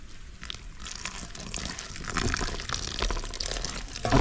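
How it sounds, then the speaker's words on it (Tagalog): Water pours in a continuous stream into a malunggay fritter batter, splashing and gurgling for a few seconds, close and moderately loud. "Lagyan na rin po natin ng tubig."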